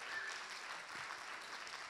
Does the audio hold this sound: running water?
no